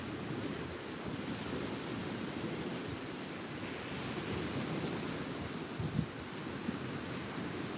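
Wind gusts steadily at the water's edge at sunset, a constant broadband rush with low microphone buffeting and a soft wash like surf underneath, no voices.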